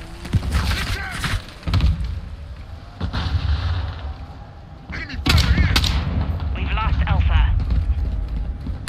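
Video game gunfire comes in sharp single shots and short bursts amid a busy match soundscape, with voices chattering throughout.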